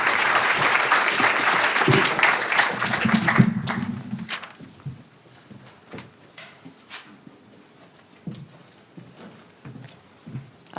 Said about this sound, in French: une bonne main d'applaudissement pour notre panel, s'il vous plaît.